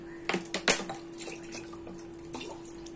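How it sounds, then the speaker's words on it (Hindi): Soaked rice for idli batter is rinsed in a vessel of water, with soft sloshing, swishing and a few clinks against the pot, close and fairly quiet, with no speech. "हमने 2-3 पानी से वॉश करेंगे इसको।"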